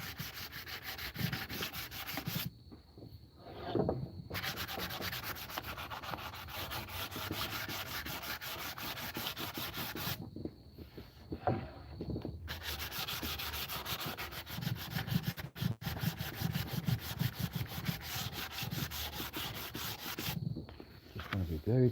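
Wood sanded by hand with coarse 80-grit sandpaper, a steady close rasping scrub broken by a few brief pauses as the strokes stop and restart.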